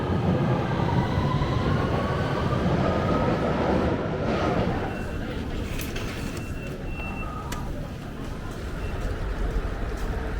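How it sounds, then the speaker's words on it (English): A London Underground tube train at Embankment station in central London, a heavy continuous rumble of wheels and carriages with thin metallic squeals rising above it, close and steady, easing slightly partway through. "I'm going to get on the tube at Embankment and then head off to King's Cross from there."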